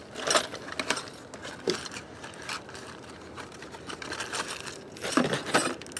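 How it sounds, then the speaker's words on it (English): Small metal mounting hardware for an LED remote wireless switch kit gets handled and shuffled, producing scattered light clinks and rattles in irregular bursts, fairly quiet and close. "Yeah, looks like mounting hardware."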